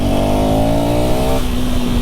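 A KTM Duke 350 motorcycle revs close by in a brief steady burst, with the engine pitch shifting partway through. No one speaks.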